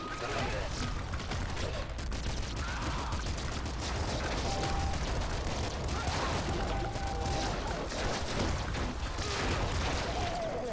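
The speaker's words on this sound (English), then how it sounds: "An auto grenade launcher does not sound safe." Rapid explosive bursts from an auto grenade launcher in the top-down shooter Nuclear Throne, a dense continuous barrage of pops and booms running the whole stretch at steady loudness amid busy game noise.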